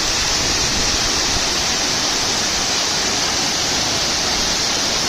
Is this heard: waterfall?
yes